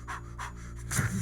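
Loud, rhythmic breathing from a character in a zombie apocalypse movie scene, three or four close, heavy breaths in steady succession.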